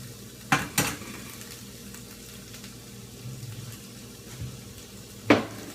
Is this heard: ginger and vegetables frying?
yes